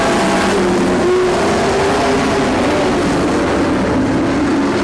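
Race cars roar three wide down the back straightaway of a short track, a loud, steady wall of engine noise with layered droning tones and no voices.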